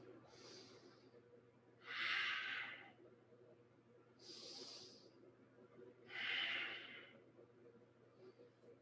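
Slow, deep yoga breaths during a flow into child's pose: four long airy breaths, inhales and exhales alternating every couple of seconds, close and soft over a low steady hum.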